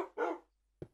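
A dog in the Minecraft video game barks twice, a clear bark followed by a shorter one a moment later, close and alone.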